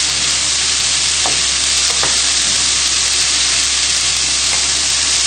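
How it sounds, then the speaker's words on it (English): Loud, continuous sizzling of onions and mushrooms frying in a hot pan, a bright steady hiss with a few soft clicks of stirring. "Just frying off a little bit of onions and mushrooms."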